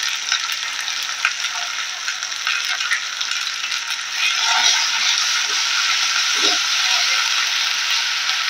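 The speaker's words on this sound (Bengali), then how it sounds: "জিরে আর ধনে বাটা দিয়ে ভালো করে আবার কষাতে হবে।" Masala sautéing with cumin and coriander paste, a steady bright sizzle and hiss of frying in a pan with occasional scraping stirs, close and continuous throughout.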